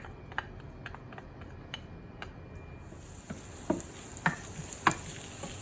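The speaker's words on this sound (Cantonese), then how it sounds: "倒啲薑蒜落去啦。" Ginger and garlic dropped into a hot wok burst into a bright, close sizzle midway, with sharp ticking pops and spatula clicks rising over the frying hiss.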